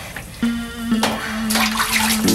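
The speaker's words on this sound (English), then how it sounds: "Let's get this water over here." Water is poured over a cat in a bathtub to rinse it, a rushing splash that swells after a brief start and keeps running steadily to the end, with a low steady hum underneath.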